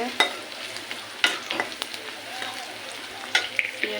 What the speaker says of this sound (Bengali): পেঁয়াজটা ভাজা আমার প্রায় হয়ে আসছে।